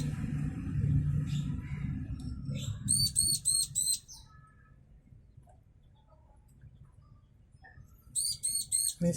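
Bar-winged prinias chirp at their nest in quick repeated bursts of sharp, high, near chirps in two clusters, over a low rumble and a soft murmur of speech early on.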